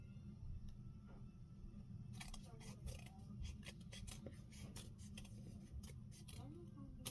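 Scissors snip through folded paper pieces during crafting, a quiet series of crisp, irregular cuts over a low background hum.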